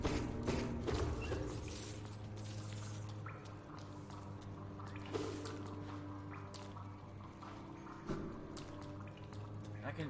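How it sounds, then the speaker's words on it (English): Water drips in the Hollow Knight video game, as soft repeated drops over a dense bed of game ambience and music with a low steady hum. "This is just water, right?"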